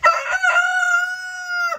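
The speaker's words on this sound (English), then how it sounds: "There's the rooster." A farm rooster crows once, loud and near, a drawn-out call of just under two seconds that rises, holds steady and cuts off.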